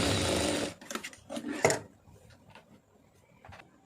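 A sewing machine stitches blouse pieces together in a loud, fast whirring run that stops abruptly after about half a second, followed by quieter scattered clicks and fabric handling.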